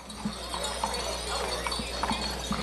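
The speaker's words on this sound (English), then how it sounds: "you can probably hear the hooves clomping as well" Horses' hooves clop on pavement in an old-time holiday parade in Ashland/Hanover, a string of irregular nearby clomps over crowd murmur and a low steady background hum.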